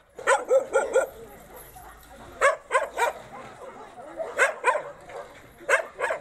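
Several dogs at an animal shelter bark and yip in repeated bursts, some close and some farther off, with short pauses between volleys and a low background hum.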